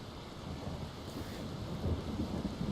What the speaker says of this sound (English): It is again raining in the Bastion